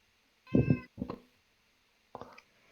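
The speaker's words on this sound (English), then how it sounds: "I hear you meowing." A house cat meowing up close, one drawn-out meow followed by two shorter ones after pauses, with a quiet room behind it.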